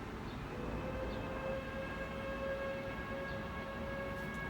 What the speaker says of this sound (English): 3 o'clock train whistle used to wake me up in the morning